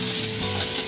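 Tamarind leaf curry frying in a pan with onions, a loud, close, steady sizzle with faint stirring, no voices.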